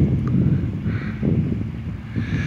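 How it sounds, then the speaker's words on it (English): Wind starting to pick up before a storm rolls into Bartlesville, Oklahoma, a gusty, rumbling buffet on the microphone with swelling and easing surges throughout. "Yep, the wind's just barely starting to pick up."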